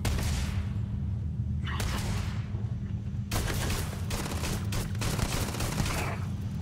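Dense, sustained gunfire in the space game Starfield, a continuous roar of rapid shots and bursts that briefly drops away and then returns even heavier, loud and close throughout.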